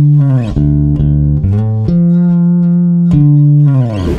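A bass guitar plays a riff alone, with loud, close, deep sustained notes and sliding pitch changes in a slow, repeating phrase.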